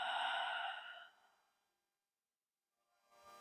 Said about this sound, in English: Open up your mouth and exhale.